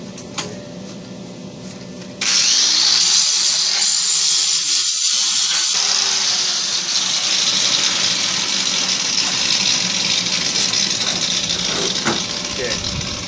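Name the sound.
grinding off a metal truck rack bracket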